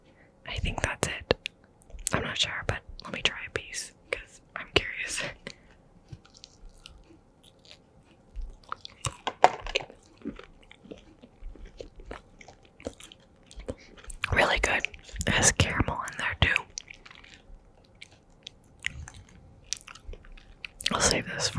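Dark Bear Claw dark chocolate with cashews is bitten and chewed close up, with bursts of crunchy mastication separated by quiet pauses and soft whispering in between.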